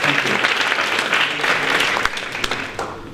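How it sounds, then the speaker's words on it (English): A members' night talk audience gives a dense, sustained round of applause, steady and fairly loud throughout with a few sharper claps standing out near the end. "Round of applause, everyone."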